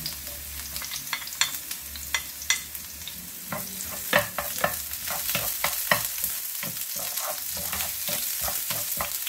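Ginger and garlic browning in a frying pan: a soft, continuous sizzle runs throughout, broken by frequent clicks and scrapes of a utensil stirring against the pan.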